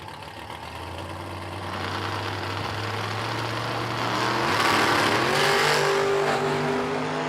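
A Corvette and a Camaro sit at the drag strip start line, engines rumbling loudly and close, then building in revs with rising pitch as they stage, with no talk over the roar.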